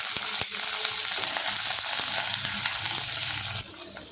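Steady sizzling and frying of chopped chayote sautéing with turmeric in a pan, with occasional stirring scrapes, loud and close, no voices.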